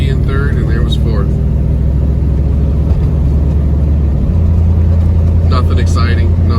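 A 1992 Camaro fitted with a Corvette transmission servo cruises at steady speed, its engine a loud continuous low drone that drops and settles into a new steady pitch as it shifts up from third into fourth gear.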